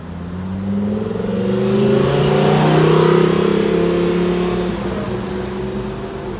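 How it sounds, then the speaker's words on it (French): A Lamborghini Huracan Performante supercar drives past on a street in Grenoble, its engine drone building as it nears, peaking mid-pass, then fading away, loud and smooth without sharp revs. "Petite Lamborghini Huracan performante qui nous venait de Belgique, qui vient de passer tranquillement à Grenoble"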